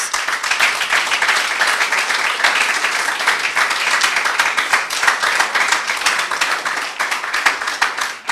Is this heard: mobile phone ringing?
no